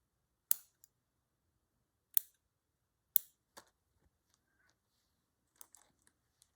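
Scissors snip paper while trimming pieces for a nature journal: three crisp, close cuts spaced about a second apart, followed by a few faint ticks and rustles.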